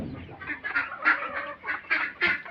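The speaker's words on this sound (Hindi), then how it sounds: "आ रही मेरे पीछे मुर्गियाँ देख रहे हैं आप, और साथ में बड़ी बतख भी है।" Several birds call close by: nasal duck quacks mixed with chicken clucks, coming in short repeated bursts.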